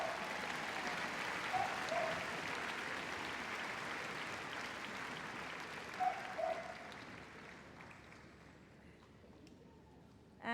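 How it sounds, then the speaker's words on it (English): Audience applause in the arena after a Crufts obedience demonstration, a broad steady clatter of clapping with a couple of brief louder bursts, fading gradually toward the end. "So give them a big round of applause."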